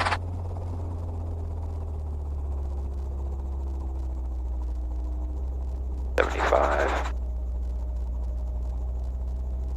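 Training helicopter after the throttle is turned off, a steady low engine and rotor drone continuing evenly throughout, with a short louder burst of noise partway through.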